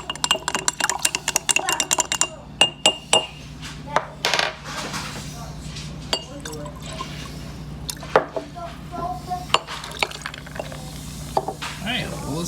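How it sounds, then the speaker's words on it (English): A pomegranate syrup and tequila drink stirred in a glass: repeated sharp clinks and liquid swirling, close and bright, with irregular spoon-against-glass taps throughout and a faint background hum. "let's stir it really good before we add the carbonated soda"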